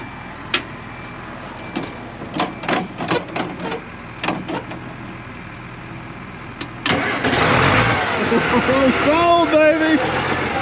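An old Cat dozer engine cranks with a few clanking sputters, then fires and runs at a loud, steady rumble close by, with a voice briefly heard.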